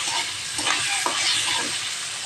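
Chopped onion and green chilli fry with corn in a pan, producing a continuous close sizzle with soft stirring sounds and no talk.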